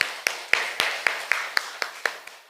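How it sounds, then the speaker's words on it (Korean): Church congregation clapping in unison at a Sunday service, about nine sharp, evenly spaced claps in a steady rhythm, close and distinct. "우리 격려의 박수 드리겠습니다"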